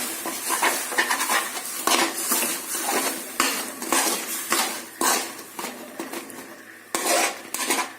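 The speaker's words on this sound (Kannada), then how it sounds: "ಸೊ ಇವಾಗ ಇದು ಬೆಲ್ಲ ಕರಗೋವರೆಗೂ ನಾವು ಈ ಥರ ತಿರುವಾಗ್ತಾ ಇರಬೇಕು" A spoon stirs and scrapes jaggery melting in a pan over a low flame for flax seed chikki, with repeated metallic clinks and scraping strokes at an uneven rhythm, close up.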